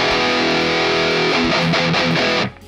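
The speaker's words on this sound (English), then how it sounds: "We have our distortion sound, which comes from this Amped Roots plugin." Distorted electric guitar through an Amped Roots amp-simulator plugin, sustained chords ringing loud and dense for over two seconds before cutting off abruptly, with no voice.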